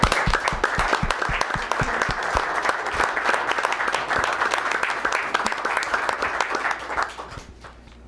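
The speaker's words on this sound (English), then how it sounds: "they started clapping on the microphone" Audience clapping at a town Board of Selectmen meeting honoring firefighters, EMTs and police, a dense, close burst of many hands that runs steadily for several seconds before fading near the end.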